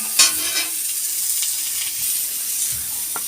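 Continuous sizzle of vegetables frying, broken by occasional scraping and stirring sounds, fairly close and even throughout.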